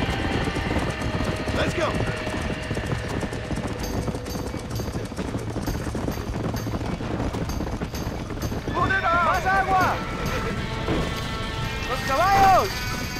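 Horses gallop with hooves clip-clopping and whinnying as riders flee a burning barn in Red Dead Redemption, the hoofbeats running steadily under shouted voices and commotion.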